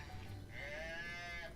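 A calf moos once, a short rising-and-falling bleating call heard fairly faint and alone against quiet background noise.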